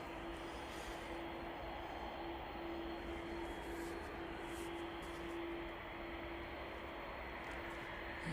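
An airplane departs East Midlands Airport on an evening flight to Hong Kong, its broad, steady jet roar filling the whole stretch at an even level with no voices.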